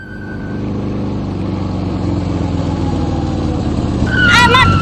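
A motorcycle ridden on the road gives a steady, loud engine drone that builds slightly over about five seconds, with a brief squealing, warbling tone near the end.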